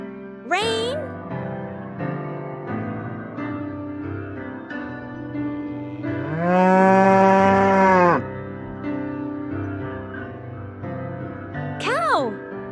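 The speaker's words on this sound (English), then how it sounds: "Cow." A cow moos once in a long, loud, drawn-out call in a kids' sound-guessing game, with a voice speaking briefly before and after it.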